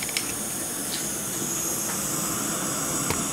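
A pot of water boils on a camp cooking stove, giving a steady, close hiss with faint bubbling pops over a few seconds and no talking.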